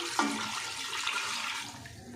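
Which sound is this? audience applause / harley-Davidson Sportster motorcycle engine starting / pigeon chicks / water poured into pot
water poured into pot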